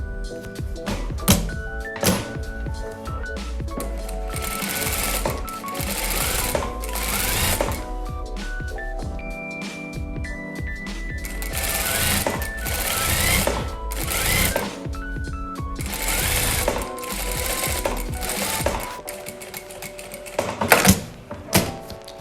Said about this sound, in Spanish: Y la vamos a coser a 1 centímetro de distancia, para lo cual nos podemos apoyar con un imán.